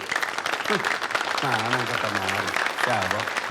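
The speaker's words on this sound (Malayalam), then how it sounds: "കൈയടിക്ക്" Audience applause at a public gathering, a dense continuous clapping that fills the whole stretch while a voice talks over it.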